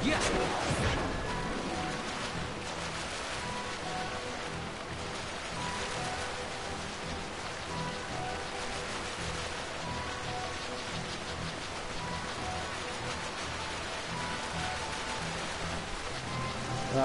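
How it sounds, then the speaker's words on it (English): Steady rain falling in the video game Final Fantasy XII, a constant hissing patter that fills the scene evenly throughout, moderately loud with no pauses. "Keep doing this over and over and over again until it rains in that area."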